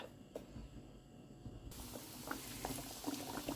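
Pork for burgers sizzles and crackles in a hot pan, a steady frying hiss that grows louder partway through.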